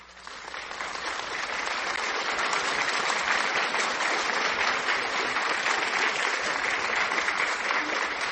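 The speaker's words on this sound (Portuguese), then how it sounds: "com uma salva de palmas para a história de Vigia" Sustained audience applause for a local history presentation about Vigia, Pará, rising over the first second into a steady, dense wash of many clapping hands that holds loud and even to the end.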